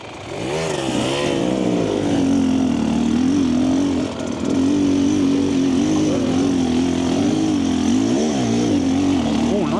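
A 2025 Husqvarna TE300 dirt bike engine drones and revs steadily while riding through sticky clay mud, loud and close throughout with a brief dip near the middle.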